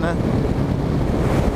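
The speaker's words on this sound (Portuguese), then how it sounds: "Vou reduzir que é uma ventania" Strong gusty wind buffets the microphone outdoors, a dense, steady low roar filling the whole stretch, with a brief spoken word over it.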